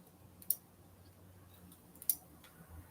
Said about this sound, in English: Let's cut that down.